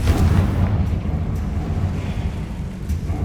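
A Confringo fire-blast spell going off inside a tomb in Hogwarts Legacy, a deep rumbling boom that trails into a steady low roar over about three seconds.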